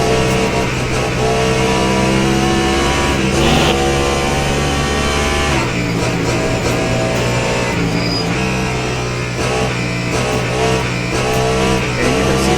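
Race cars in Le Mans Ultimate, an LMP2 prototype and Porsches, drone loudly at steady high revs through the 24 Hours of Le Mans circuit near Indianapolis corner, engine tones shifting as cars pass, with no talk.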